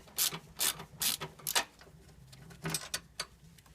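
A socket ratchet works the 10 mm fasteners on a Toyota Sienna 3.5L V6 (2GR-FE) starter, clicking in quick bursts of several rapid ratcheting strokes with short pauses, close and fairly quiet.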